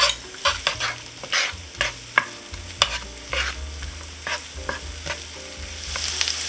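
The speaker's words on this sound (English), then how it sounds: "The butter is melted now, so I'm going to add the chopped onions." Chopped onions frying in melted butter for corned beef hash sizzle steadily while a utensil scrapes and stirs the pan in repeated close strokes, with no voices.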